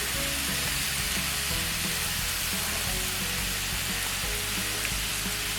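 Green chillies frying with crab masala in a pan, a steady, close, full sizzle with faint stirring clatter, no talk.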